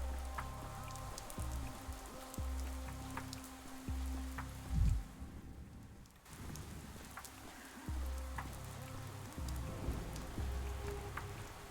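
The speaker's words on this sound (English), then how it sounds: "I love the rain effect on the square." Steady rain falling on a town square in the video game Pathologic 3, a continuous soft patter with occasional droplet ticks, layered over low, droning game music.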